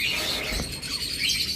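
A pair of pet birds, a lutino female and an American yellow male, chirps in a brief run of high, thin calls heard close by.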